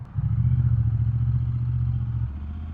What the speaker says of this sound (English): the sound that the Bonnevilles make out of those exhaust pipes is absolutely beautiful